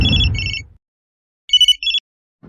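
Telephone rings in a crime drama scene: two electronic double-trill bursts, the first fading under a low rumble of music, then a clear ring after a silent gap, with a faint onset of something at the end.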